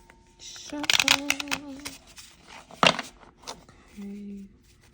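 Quick riffled card shuffles come in bursts, a crisp flutter of cards snapping together, close by, with a short hum of a voice near the end.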